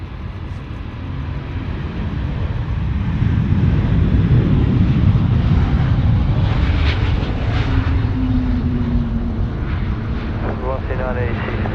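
A Cathay Pacific Airbus A350-900 jet airliner roars past at night at Sydney Airport. The loud, sustained engine rumble swells and holds, and someone talks over it.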